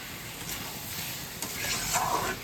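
Chicken curry stirred and frying in oil in a pan, a steady soft sizzle with scraping stir strokes, close and continuous with no voices.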